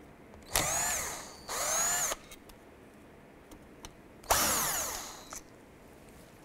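Power tool spinning out T30 Torx bolts on a 1993-1997 Ford Ranger, three separate high whining bursts with short pauses between and faint clicks during the gaps.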